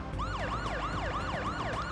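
Police car siren in the video game Parasite Eve, a rapid wailing yelp that rises and falls about five times in two seconds, loud and steady over a low engine-like rumble.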